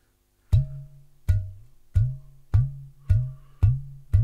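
Seven evenly spaced half-closed, half-open strokes on a ghatam clay pot drum, each a deep thump with a short ringing decay, played alone at a steady pace.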